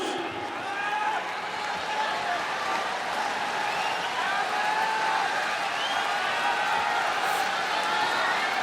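A record crowd of 43,711 at Saitama Super Arena for a Pride FC mixed martial arts event keeps up a dense, steady roar of applause and cheering, loud and continuous throughout.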